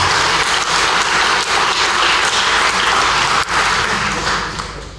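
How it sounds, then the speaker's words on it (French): Audience applause at a French stroke symposium, a dense, steady wash of clapping from a seated crowd that holds for the whole stretch and tapers slightly at the end. "les saluer par vos applaudissements de leur engagement"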